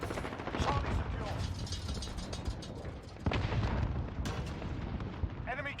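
SCAR rifle fire in the video game Modern Warfare, heard as dense, loud rapid gunshot bursts with sharp onsets around the middle and near the end, over continuous battle noise and a brief voice.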